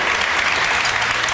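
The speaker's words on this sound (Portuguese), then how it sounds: "Uma salva de palmas." A live studio audience on a Portuguese morning television show gives a short, loud burst of continuous clapping that lasts just over a second.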